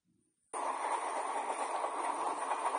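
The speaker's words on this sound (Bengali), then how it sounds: "একটা একটা করে স্টেশন পেরিয়ে ট্রেন লিলুয়ায় ঢুকছে।" Running train on rails used as a story sound effect: after a brief quiet start it cuts in as a steady, loud rushing rumble and hiss that holds evenly to the end, with no speech over it.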